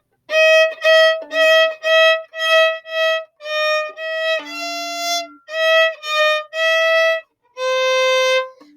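A tune is played on solo violin, a clear, close melody of about fourteen bowed notes, mostly short and detached with a few held longer, and no voices alongside.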